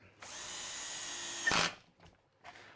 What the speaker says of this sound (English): I've got the clutch set at 6 on this little drill.